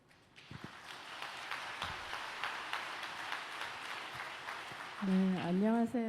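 A gathered audience gives a steady round of applause to welcome a speaker, a fairly soft, even wash of clapping lasting several seconds before a voice starts talking over its final moments.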